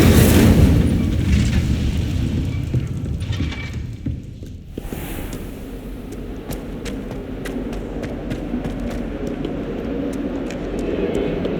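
An Incendio fire spell is cast in Hogwarts Legacy, giving a heavy, booming rumble that keeps going throughout, with scattered sharp crackles over the low roar.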